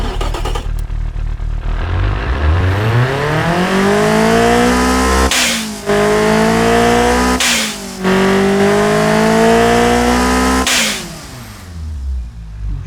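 A tuned Toyota 22R-E engine in the Automation video game is revved hard several times, each loud, rising whine climbing in pitch before cutting off sharply and building again.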